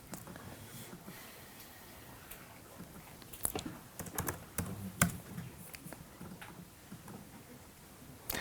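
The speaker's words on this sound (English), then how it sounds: "Sorry, I cannot type on Mac keyboard." Quiet, irregular typing on a Mac keyboard, with soft key clicks coming in scattered bursts against low background hiss and no talking.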